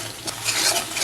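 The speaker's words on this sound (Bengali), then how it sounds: "সবটা উপকরণ দেওয়ার পরে আমি মশলাটা ভালো করে কষে নেব" Spice masala with turmeric, chili powder and salt stirred in hot oil for an aloo puti fish bhuna, a loud, close, brief sizzle with scraping stirs.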